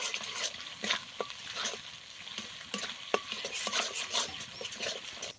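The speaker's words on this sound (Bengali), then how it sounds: "ডাবের শাঁসটা দিয়ে আবারও ভালো করে একটু কষিয়ে নেব" Ground coconut and tender green-coconut flesh stir-fried with spices for a fish dish, a close, bright sizzle with repeated scraping strokes and a few sharp clicks of the spoon against the pan.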